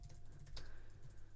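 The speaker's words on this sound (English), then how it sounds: "Let me just quickly type." Tags being typed on a computer keyboard: soft, quiet key clicks in a loose rhythm, with one slightly sharper keystroke midway.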